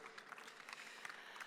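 Faint applause from an audience at an esports event for a player on stage, a short even patter of clapping heard at low level and from a distance.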